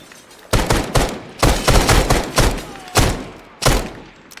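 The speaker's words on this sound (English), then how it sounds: "Still taking some small arms, bit of sporadic small arms here." Sporadic small-arms gunfire in the military shooter ARMA 3: about seven sharp, loud shots and short bursts at irregular intervals, with quiet gaps between them.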